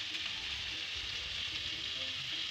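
Tomato sautéing with salt in a pan for egg masala semiya upma, giving a steady, moderately loud sizzling hiss with a faint bubbling crackle throughout, with no voices.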